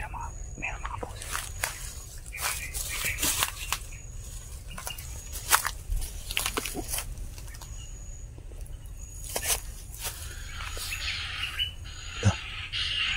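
Bird calls in a horror video game, a series of scattered sharp chirps and squawks spread over several seconds above a low, steady ambient drone, with faint whispery noises mixed in.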